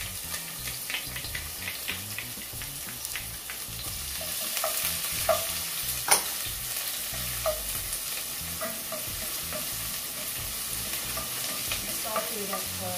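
Onion, scallion and scotch bonnet peppers sauté in a pan for a Jamaican ackee and saltfish dish, giving a steady close sizzle with scattered stirring scrapes and one sharper clink midway, with no voices.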